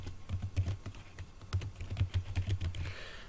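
Quick, irregular clatter of keys being typed on a computer keyboard while entering text into an Excel spreadsheet, close and fairly steady, with no voice over it.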